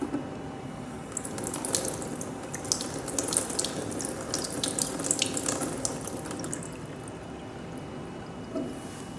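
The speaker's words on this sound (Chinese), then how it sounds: "并在流动水中冲洗干净。" Running tap water splashes steadily into a sink as a fabric sample is rinsed under the flow, a continuous close hiss with irregular splashy bursts.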